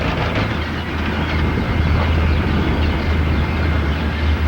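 Busch Gardens Tampa Serengeti plain tour train in 1989, a steady loud rumble heard from on board, continuous low rolling noise with wind-like hiss and no distinct clacks, nobody talking.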